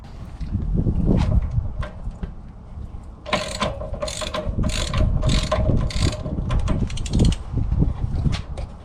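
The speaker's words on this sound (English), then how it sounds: "This is a 1 1/16 inch socket." A ratchet wrench with a 1 1/16 inch socket clicks in quick repeated bursts as it loosens the drain plug on a 2022 Keystone Montana RV water heater, close and clear.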